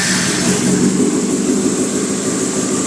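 A Yamaha R6 sport motorcycle engine drones at a constant pitch, loud and close, with a broad hiss over it and no clear rise or fall in revs.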